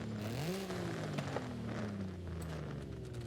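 A Nissan 370Z Nismo with an aftermarket exhaust revs in Forza Horizon 5, its engine note climbing in a quick burst then easing down in a falling whine, fairly faint.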